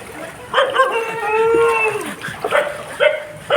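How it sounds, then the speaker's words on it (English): A dog howls in a long, wavering, rising-and-falling cry on a flooded street in Goalpara, Assam, followed by a few shorter yelping calls, fairly close and loud over background noise. "Look at that dog."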